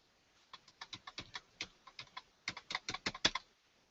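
Quick bursts of typing on a computer keyboard with a faulty key, about twenty sharp, close clicks in uneven runs with short pauses, alone and no talking.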